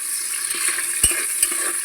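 Chopped onion frying in oil with garlic, ginger, bay leaf and chilli, a soft continuous sizzle close by with two brief knocks of a spoon against the pan.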